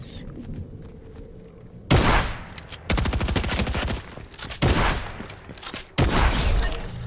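Video game gunfire, dense rapid bursts of automatic fire in several loud, close volleys separated by brief pauses, after a quieter lead-in with faint ambient sounds.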